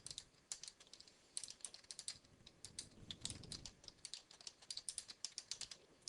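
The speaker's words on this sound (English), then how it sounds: "I can type something on this page." Quiet, close clatter of fingers tapping computer keyboard keys in uneven bursts, with a soft low thump partway through.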